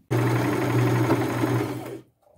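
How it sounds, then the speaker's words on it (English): A sewing machine runs a continuous straight stitch along fabric strips, a loud, steady motor whir with rapid needle chatter for about two seconds before stopping abruptly. "sew that until I have all the strips sewn"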